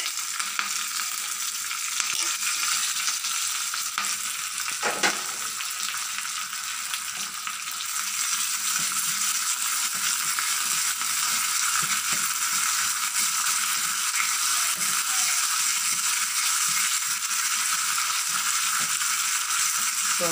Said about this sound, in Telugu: సోపులు బాగా వేగనిద్దాం.